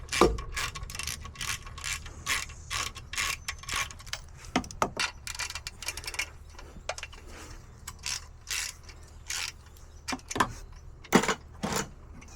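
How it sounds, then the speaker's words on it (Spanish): A ratchet wrench loosens bolts on the ICP base of a DT466E diesel engine, with rapid clicking bursts repeating through the whole stretch, close and fairly loud with brief pauses between runs. "esta base hay que soltar este tornillo que está acá abajo y esos dos que están arriba"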